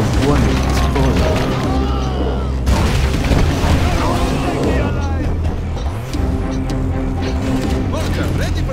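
Mortar strike explosions in C&C Generals thud and boom repeatedly in a busy, loud battle mix, layered with mechanical clatter and game unit voices speaking over the din.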